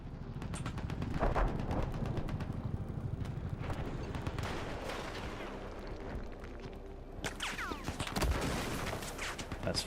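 Rapid gunfire and heavy blasts crackle through a video game match, including a rail gun, with repeated sharp shots in bursts and a louder cluster near the end; a voice speaks briefly.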